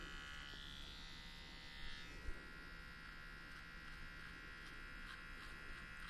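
An electric hair trimmer buzzing steadily at a barbershop while a man's hairline and the hair near his ear are cleaned up, a continuous close hum with a couple of faint bumps.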